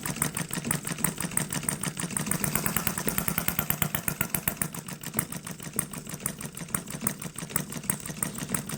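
A small HM-01 Retrol hit-and-miss model engine, set up for hit-and-miss or throttle-governed running, chugs steadily at a fast, even rhythm of close, loud firing pulses, with no talk.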